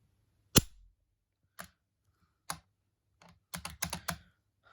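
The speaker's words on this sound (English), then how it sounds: "why did you dry fire it twice?" A deactivated Lee Enfield SMLE rifle is worked and dry fired twice, giving a series of sharp, close metallic clicks and clacks of the bolt and trigger in an otherwise quiet room.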